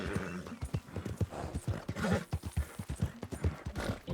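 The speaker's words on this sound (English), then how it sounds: "push my horse to the limit now" Horse hooves galloping in Red Dead Redemption 2, a quick steady clip-clop of hoofbeats at close range with breathy snorts mixed in, moderately loud and alone.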